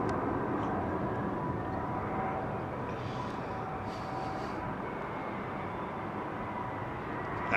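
A jet aircraft on runway 27L at London Heathrow Airport, a broad steady engine roar heard from a distance, holding fairly even throughout with a faint higher whine drifting in and out, and no talk.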